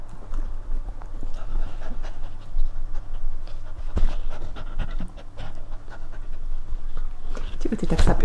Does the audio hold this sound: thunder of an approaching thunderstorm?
no